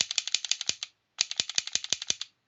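Fast dry-fire trigger pulls on an unloaded handgun with a reload: two quick strings of rapid, rhythmic mechanical clicks and snaps separated by a short gap, close up and crisp.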